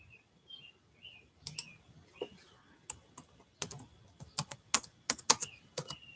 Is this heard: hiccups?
no